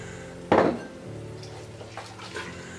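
Lentils and about four glasses of boiling water added to a cooking pot for Afghan daal, one sharp metallic clatter of the pot followed by a brief pour and faint splashing.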